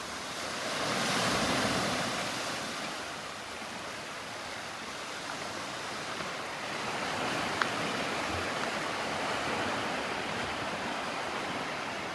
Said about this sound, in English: Let me turn this camera around and give you a nice little view of what I'm looking at.